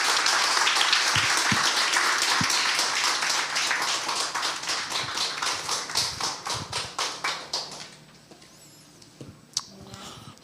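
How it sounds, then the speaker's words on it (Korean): A church congregation welcomes the pastor with dense, loud applause that thins into rhythmic, unison clapping, then fades out at around eight seconds, leaving quiet room noise with a faint knock. "우리 박수로 한번 목사님 환영하겠습니다."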